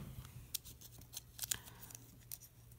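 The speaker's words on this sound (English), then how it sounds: "Use my keys to make a little incision" Keys slicing and tearing into the plastic shrink wrap on an Animal Crossing: New Leaf game case, making faint scratchy snips and crinkles in short irregular bursts, close and quiet.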